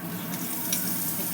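Pointed gourd sizzles steadily in hot oil in a pan, a close, continuous frying hiss with light crackle and no talking.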